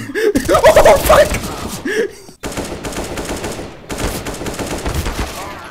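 Counter-Strike 2 gunfire: a voice and a gasp at first, then a loud, sustained stream of rapid automatic shots with brief pauses between bursts, fairly close and dominant.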